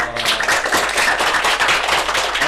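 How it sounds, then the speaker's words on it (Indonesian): A small group of people applauding at an indoor podcast session, dense rapid clapping held close and fairly loud across the whole stretch, with no voices over it. "Wah, tepuk tangan dong"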